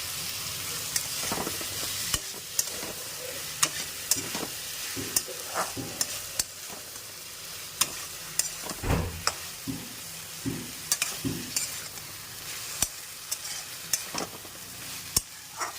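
Fried potatoes are stirred in a pan while poppy seed paste goes in: a steady low sizzle under repeated scraping spoon strokes and sharp clacks against the metal, close and fairly quiet.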